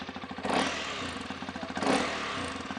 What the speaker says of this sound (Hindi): तो आप इसका एग्जॉस्ट नोट सुनिए अब कितना प्यारा है